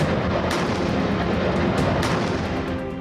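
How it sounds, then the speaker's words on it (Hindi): Bofors howitzers and K9 Vajra self-propelled guns of the Indian Army fire over a dense, roaring background, with a few sharp blasts spaced over a few seconds. "अब महिला ऑफिसर्स के हाथों में बोफोर्स होवित्जर, K9 वज्र जैसी तोपें दिखेंगी, जो चीन और पाकिस्तान पर आग उगलेंगी।"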